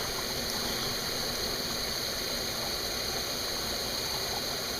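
A leaking dishwasher fills with water, giving a steady, hissing rush of flowing water with a constant tonal whine from the pump, uniform and unbroken throughout.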